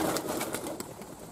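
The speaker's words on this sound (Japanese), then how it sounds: "飛び始めたハトたちです。" Pigeons leaving their loft's exit start flying, soft coos and a faint flutter of wings heard nearby over a low outdoor background.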